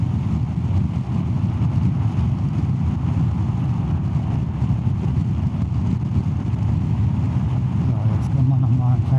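A Zontes 350 E scooter fitted with Tech Pulleys accelerates under throttle, its engine and road noise a loud, steady drone that stays constant throughout with a slight lift near the end.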